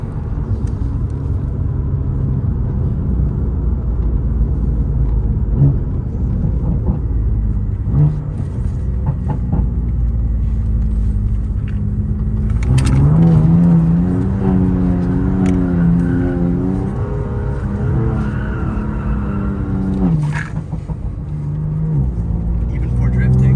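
Sports car engine, either a Mercedes A45 S AMG or a BMW M2 Competition, rumbles and revs up under acceleration, heard from inside the cabin with a steady low drone that rises in pitch midway while a person talks over it.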